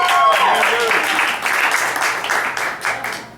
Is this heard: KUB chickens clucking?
no